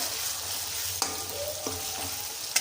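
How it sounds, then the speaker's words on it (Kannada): Cooled rice being stirred into tomato and capsicum gojju in a pan gives a soft, steady sizzle with light scraping and a couple of spoon taps, close and quiet. "ಈಗ ಹಾರಾಕೊಂಡಿರೋ ಅನ್ನಕ್ಕೆ ಇನ್ನು ಕಲ್ಸ್ಕೊತೀನಿ"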